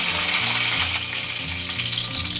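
Mustard seeds and curry leaves sizzling in hot oil in a kadai, a loud bright continuous crackle and spatter with a faint low hum underneath, close up and without talk.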